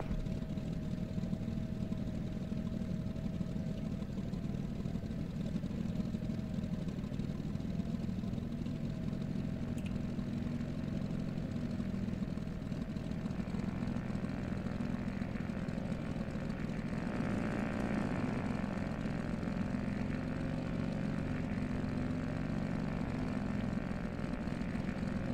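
A Marchetti aircraft's propeller engine runs steadily while taxiing, a continuous near drone with a constant tone that swells slightly toward the end.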